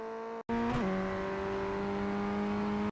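Ray FF1600 open-wheel race car at Okayama Short in iRacing, engine droning steadily at high revs with a quick gear change early on, then a sustained loud tone through the straight.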